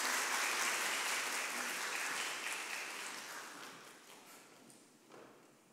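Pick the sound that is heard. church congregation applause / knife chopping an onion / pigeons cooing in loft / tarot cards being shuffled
church congregation applause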